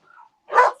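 One short, sharp bark from a dog comes close by, preceded by a faint brief whine.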